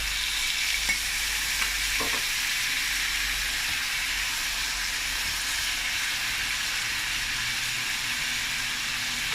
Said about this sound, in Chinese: 我们倒料酒，去下腥，然后来点酱油调一下色。